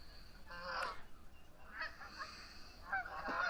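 Geese honking in repeated bursts from a flock on the move through heavy fog, in a New Brunswick setting. The calls are moderately distant and come in three clustered volleys over a steady outdoor background.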